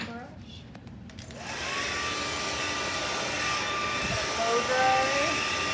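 A hair dryer switches on and runs as a steady, loud whirring blow against damp hair being styled with a round brush, preceded by a few seconds of quieter background.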